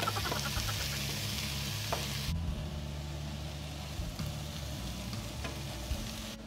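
Onions hit a hot pan with shrimp while sautéing for a Filipino ginisang ampalaya, giving a close, steady sizzle that drops slightly in intensity partway through, with faint stirring scrapes and no speech.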